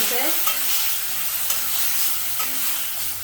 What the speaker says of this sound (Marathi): मिरच्या मस्त परतून झाल्या तर ह्यामध्ये मी दही घालते